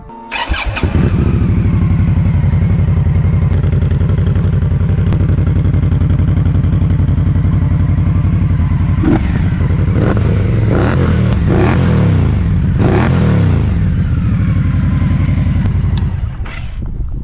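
A dyno-tuned stage 3 Scout motorcycle engine starts and idles loudly with a deep, throbbing rumble, then revs up in several rising blips before cutting off near the end.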